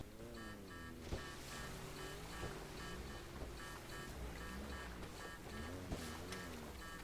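A boat moves across water in a video game, its motor humming steadily under a soft wash of waves, with faint repeating tones and occasional clicks in the background.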